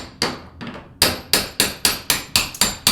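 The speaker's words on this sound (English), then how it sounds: "so we tap out the bottom hinge pin" A hammer taps out a door hinge pin with about eight sharp metallic strikes. The first blows are irregular, then they settle into a steady, evenly spaced rhythm, loud and close, with no talking.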